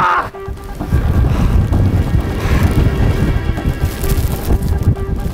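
Strong wind buffeting the microphone of a cyclist riding on the road, a loud continuous low rumble and roar with gusty swells and no clear speech.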